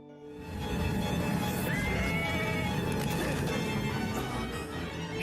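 A frightened horse neighs in a dense, busy scene, its high cry rising briefly over a loud continuous rumble of clatter and commotion, with no voices.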